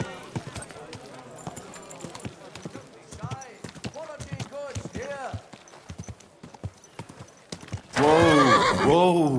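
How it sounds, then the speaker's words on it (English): In the video game Kingdom Come: Deliverance 2, horse hooves clip-clop in a steady rhythm on hard ground, and then a loud, close horse whinny rings out at the end. Someone speaks briefly over the hoofbeats. "Easy, good horse."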